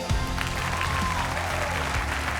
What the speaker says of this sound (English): big round of applause for the beautiful Ray